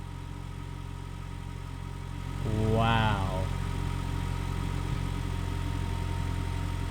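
A car engine rumbles at idle close by, swelling briefly as it catches before settling into a steady low drone, while a voice exclaims over it.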